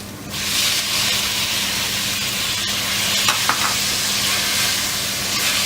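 Tomatoes hit hot ginger garlic paste in a pan for pav bhaji, setting off a steady loud sizzle and hiss with a few soft stirring clicks, close up and continuous.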